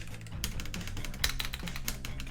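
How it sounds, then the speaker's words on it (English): Keys pressed on a Keychron keyboard fitted with brown and red switches and low-profile keycaps, a quick close run of light clacky taps at an uneven typing rhythm, fairly quiet and without talking. "So this is the brown switches. This is the red switches. But with the, this low profile keycaps."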